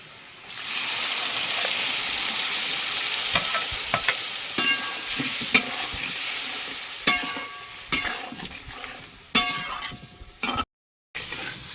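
Spice paste thinned with water hits a hot wok and sizzles, a fizzing hiss followed by intermittent sharp clinks and scrapes of a utensil against the pan, with a brief silence near the end.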